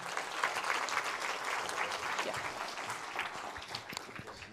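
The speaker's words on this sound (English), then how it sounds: "give a big round of applause for our next speaker" Big round of audience applause for the next speaker at a 2020 talk on Black women's health, a dense, sustained wash of clapping that tapers slightly toward the end.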